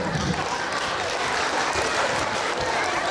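An audience applauds continuously at a concert by a Georgian duet on their 40th anniversary tour in Baghdati, a dense, steady clapping from a large crowd.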